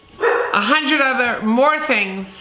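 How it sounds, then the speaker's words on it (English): A pet dog barks and yips in the background, layered under someone talking. "That's okay, that's my dog."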